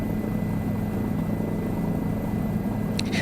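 A helicopter in Microsoft Flight Simulator 2020 drones with a steady, dense rotor and engine roar, loud and unbroken throughout, with a brief faint click near the end.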